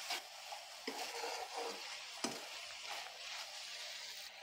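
Broad bean pods frying in a pan, stirred with soft scraping and a steady faint sizzle, plus a few small knocks against the pan and no talking.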